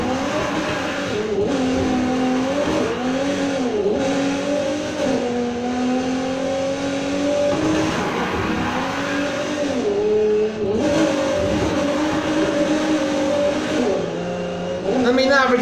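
A 2019 Aston Martin DB11 Volante drifting in Need for Speed Heat, its engine droning and rising and falling in pitch with revs throughout, close and steady, while someone talks over it.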